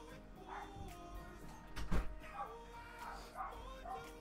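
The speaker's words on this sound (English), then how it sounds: "the dogs barking and drive me crazy" Dogs bark and yip in short bursts at a moderate distance, with whimpering and a louder bark in the middle, over a low hum of room noise.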